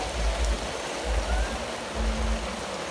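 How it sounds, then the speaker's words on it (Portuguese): Light rain keeps up a steady hiss on an outdoor family barbecue site in the countryside, continuous and even with a low rumble beneath and no voices. "Tá chovendo bastante."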